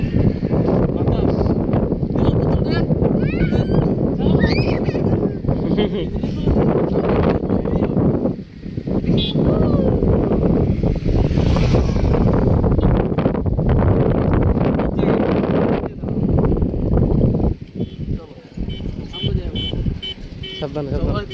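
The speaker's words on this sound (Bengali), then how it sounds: "বাতাস।" Strong wind rushes across the microphone outdoors in a village, a loud continuous roar and buffeting throughout, with people talking beneath it.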